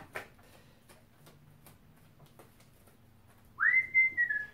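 A short, clear whistled phrase rises then wavers near the end, after quiet ticks and faint clicks in a hushed room, in the game Steampunk Tycoon.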